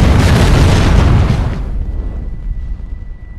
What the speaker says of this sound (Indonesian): mobil ambulan itu meledak dan Jung-jae mati dengan mengenaskan